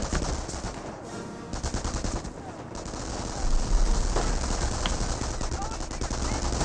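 Sustained bursts of MP40 submachine-gun fire in the World War II strategy game Company of Heroes, dense rattling shots layered with other battlefield gunfire, loud and continuous throughout with a heavier swell midway.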